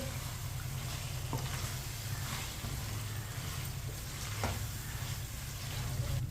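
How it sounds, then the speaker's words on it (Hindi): Chicken pieces fry in a pan with a steady, moderately quiet sizzle, broken by a few sharp spatters and occasional stirring scrapes, heard up close. "मिक्स करके 2 मिनट के लिए पका लेंगे"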